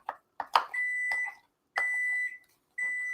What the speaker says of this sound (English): Timer's going to go off.